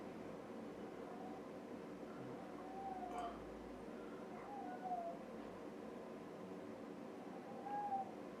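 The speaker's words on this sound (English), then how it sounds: "One of the cat is kind of, I don't know, crying." A house cat cries with a few faint, drawn-out meows spread apart, distant and soft beneath a hissy room background.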